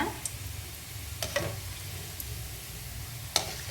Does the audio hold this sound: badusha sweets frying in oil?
yes